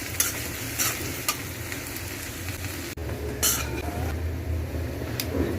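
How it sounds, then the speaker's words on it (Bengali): Onions fry in mustard oil for a beef dish, a steady close sizzle under repeated scraping stirs and occasional clinks of a utensil against the pan, with no talking. "আমি পেঁয়াজটা একটু লাল করে ভেজে নিই।"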